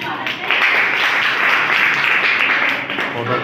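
Audience at a World AIDS Day health awareness event in Shujalpur breaks into strong, sustained applause, close and lively, swelling then tapering slightly at the end.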